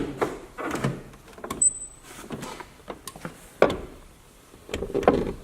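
A car door is swung open and shut several times, its squeaky hinges and check straps creaking and clunking, with a couple of sharp thuds.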